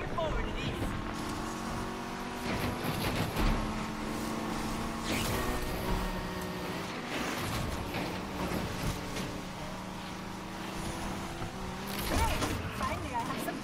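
A Viper car engine roars steadily through a race in the Need for Speed Unbound video game, a continuous loud drone with shifting pitch that sits under someone talking throughout.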